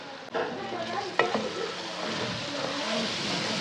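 Spices of dried coriander and cumin being stirred into onion and tomato frying in a pan, a steady close sizzle with scraping spoon strokes and a couple of sharper clinks.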